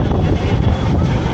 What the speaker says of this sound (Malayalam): ഓ നല്ല കാറ്റ്